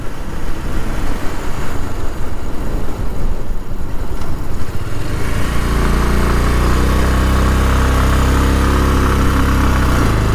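Motorbike engine running steadily on a hairpin-bend mountain road on Kolli Hills, a continuous loud drone that shifts to a smoother, lower hum partway through as the bike slows on a turn.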